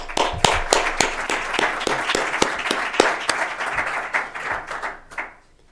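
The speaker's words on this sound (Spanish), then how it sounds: "Un aplauso para Pedro" A crowd applauds steadily for several seconds at a conference panel, dense clapping with a few sharp individual claps standing out, then fading away at the end.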